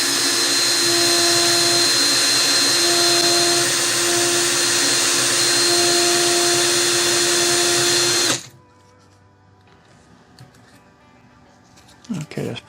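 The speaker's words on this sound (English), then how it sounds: "I'm just going to clean the end of this wire by using a drill to spin the wire and use some emery cloth to clean it." A power drill spins a wire end while emery cloth cleans it, a loud, steady high-pitched whine running for about eight seconds before cutting off, followed by quiet room noise and a few faint knocks.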